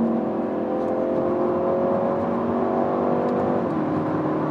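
A BMW G21 3 Series car engine revs hard under acceleration, a loud steady drone whose pitch climbs, then briefly drops as if shifting gear near the end.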